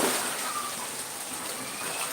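Steady rain falls in Batam, a dense, even hiss of drops on surfaces that holds at constant strength throughout with no talk over it.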